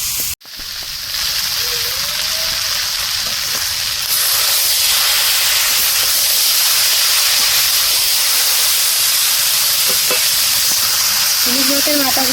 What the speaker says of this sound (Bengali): এখন কড়াইতে দিয়ে দিয়েছি রসুন, পেঁয়াজ, তেজপাতা, শুকনো লঙ্কা সব দিয়ে দিয়েছি একে একে